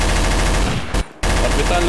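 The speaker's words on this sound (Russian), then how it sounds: "Орбитальная пушка у нас пошла." An orbital cannon fires in a Garry's Mod match with a FNAF pizzeria setting, a dense, loud rattling barrage that cuts out for a moment before resuming at full force.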